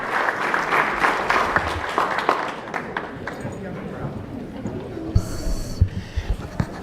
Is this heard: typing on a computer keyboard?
no